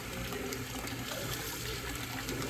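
Tap water runs steadily into a sink while greens are washed, a continuous gushing rush with no voices over it.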